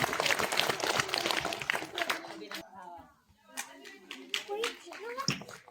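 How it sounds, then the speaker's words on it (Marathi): Children clapping during a classroom quiz game, bursts of sharp handclaps mixed with kids' voices and chatter, the clapping thicker at the start, then scattered claps between speech. "टाळ्या वाजवा रे सर्वांनी."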